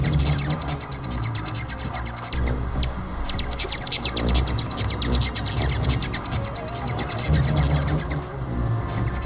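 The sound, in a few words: hummingbird wings and chirps from a toy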